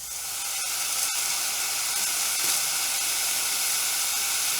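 A Gaggia Classic espresso machine's steam wand with a four-hole steam tip steams cold milk, giving a loud, steady hiss throughout with a few faint clicks and no voices.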